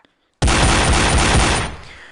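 A sudden loud blast of rapid gunfire in a VR shooting-range game erupts from silence, sustained for over a second before trailing off with a reverberant tail.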